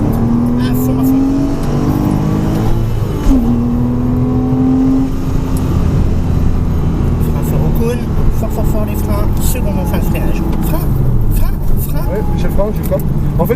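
A Porsche Cayman S on the Mettet track accelerating hard, its engine note climbing and shifting through gears over a steady road roar, with people talking inside the car.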